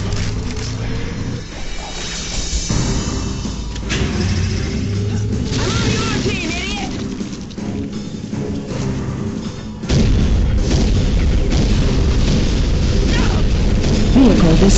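Vehicle explosions boom and thud in a FURReal Tournament 2004 match, heavy and loud over constant game noise and mechanical rumble, with an announcer voice speaking throughout.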